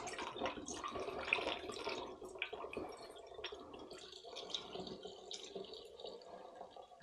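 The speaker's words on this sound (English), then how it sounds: "And we're going to add some more water here." Water poured into a maple mead mixture with black tea, a faint, uneven trickling and splashing with dripping sounds, close by and without talk.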